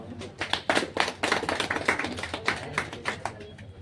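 An audience breaks into loud applause at a public event in Kadapa city honouring municipal workers, rapid uneven handclaps building and pulsing throughout, fairly close and dense.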